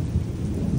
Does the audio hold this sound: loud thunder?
yes